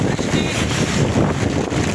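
Wind and rain on a stormy day after a heat spell: a loud, close rushing roar of gusting wind buffets continuously without a break, and no one speaks.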